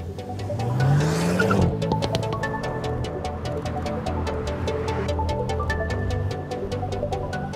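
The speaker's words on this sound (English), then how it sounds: "Then the engine will rev up to 3000, and whenever I want to go, I just lift the brake." Hyundai Kona N using launch control, its engine revving loudly with a rising pitch before the car pulls away and accelerates steadily, a continuous close engine roar with a brief tire-squeal-like burst at the launch.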